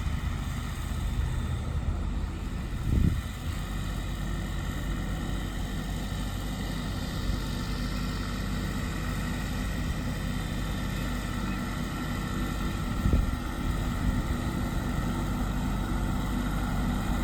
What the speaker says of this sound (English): finally got to drive a real tractor.